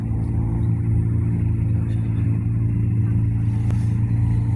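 Peugeot rally cars on a stage of the 2024 Rallye de Franche-Comté give a steady, loud, low engine rumble that holds without a clear rise or fade, with no voices over it.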